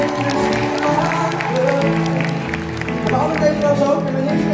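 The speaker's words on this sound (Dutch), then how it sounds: "Even een applaus" A concert audience at a show in Weert applauds, a continuous crowd clapping blended with lingering music and crowd murmur, fairly loud and steady throughout.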